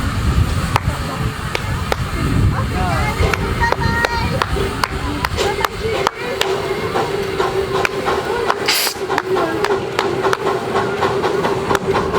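A train rumbles past with a steady, loud mechanical roar and rhythmic clatter, voices faintly audible beneath it.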